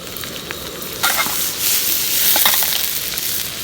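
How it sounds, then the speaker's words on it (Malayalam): Chopped onion hits hot oil already holding ginger, garlic and green chilli, bursting into a loud, close sizzle that stays steady and crackling, with faint stirring scrapes. "ഇനി അതിലേക്ക് നമ്മൾ ചെറുതായി അരിഞ്ഞ് വെച്ചായിരുന്നു സവോള ചേർക്കും"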